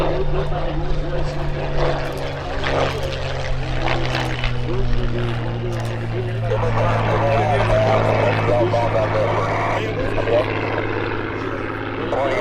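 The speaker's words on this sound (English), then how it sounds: "They're Rolls-Royce Merlin engines" WWII fighter aircraft with liquid-cooled Rolls-Royce Merlin engines at a gathering of vintage warbirds, a steady droning engine hum with strong low tones sustained throughout, moderately distant, under background noise.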